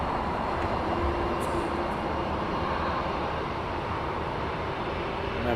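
Aircraft taxiing out at Heathrow Airport for an intersection takeoff, a steady broadband engine roar that holds constant and fairly close with no one talking.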